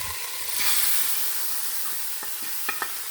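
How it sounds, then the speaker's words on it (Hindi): Hot tadka tempering sizzling in warmed kadhi for a kadhi pakora order in a home kitchen, a steady close hiss with a few sharp pops near the end. "तड़का भी लग गया अच्छे से"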